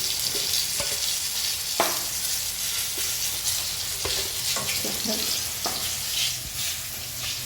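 Bitter gourd pieces fry in a pan, a steady close sizzle broken by repeated clacks and scrapes of stirring throughout.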